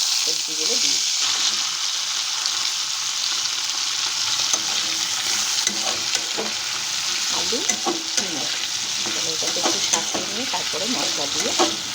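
Steady sizzling of vegetables frying in a hot pan, with occasional stirring scrapes, continuous and close throughout.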